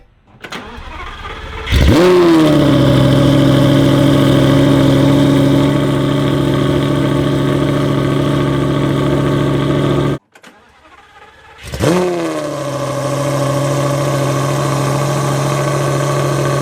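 A Lamborghini Gallardo Superleggera engine starts and settles into a steady idle, briefly cuts out, then restarts and idles on, close and loud.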